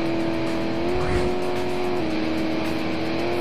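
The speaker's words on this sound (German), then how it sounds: "So, und driften wir da einmal" Car drifting through an intersection in the video game Alarm für Cobra 11 Burning Wheels, a loud sustained engine drone with a steady pitch that dips slightly midway, close and continuous.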